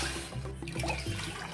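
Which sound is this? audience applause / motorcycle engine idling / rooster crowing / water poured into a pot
water poured into a pot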